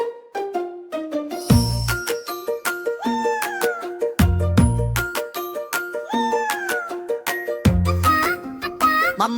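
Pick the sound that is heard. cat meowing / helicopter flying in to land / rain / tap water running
cat meowing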